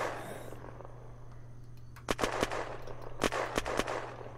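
Full-auto AK rifle fire in the zombie survival game Unturned: separate sharp shots, then two quick bursts of several rapid cracks around the middle and near the end over a steady low hum, fairly close and moderately loud.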